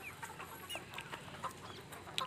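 Desi gavran chickens on a farm give scattered, faint clucks and chirps over a quiet background, with several birds calling at irregular moments and some distance from the listener.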